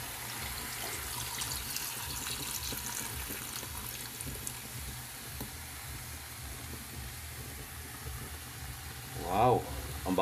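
Pure coconut milk pours into a pan with lemongrass for ginataang bagoong, a steady wet rushing pour over a faint simmering hiss, ending in a brief louder splash near the close.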